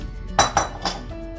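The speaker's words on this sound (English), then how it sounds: "I'm going to add it to the pan, toss everything up." Metal cookware clinks three times in quick succession as soaked rice and biryani ingredients are tossed in a pan, the bright, close clanks separated by brief pauses over a low background hum.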